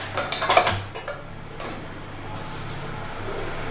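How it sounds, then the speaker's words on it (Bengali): A metal kadai (wok) is set down on a kitchen stove with a brief loud clatter of metal at the start, then a steady low background hum. "দেখো, এর মধ্যে আমি একটা কড়াই বসিয়ে দিচ্ছি।"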